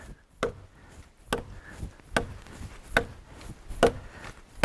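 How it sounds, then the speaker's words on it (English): Sharp chopping blows land about once a second, six or so strikes of a butcher knife biting into a hardwood log, close by with no talking. "taking your butcher knife out and chopping a log in two"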